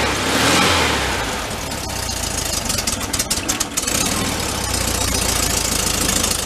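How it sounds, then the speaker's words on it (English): A VW Thing's engine revs up from idle on choke, a loud, rough, rumbling roar that swells early, wavers with uneven knocking pulses mid-way, then settles into a steady, throbbing idle. "When you rev it like that, you ended up taking it off the choke."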